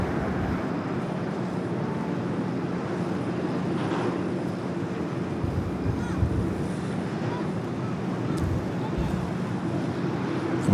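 A United Boeing 787-9 Dreamliner departs from LAX with a steady, broad jet rumble at moderate distance that holds evenly throughout.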